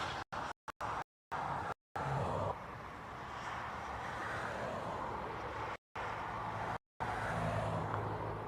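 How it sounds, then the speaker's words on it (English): Low, steady engine rumble from vehicles moving around Dublin Airport, fairly distant and continuous, broken by several short dropouts of silence. "You can probably hear the trucks better as well."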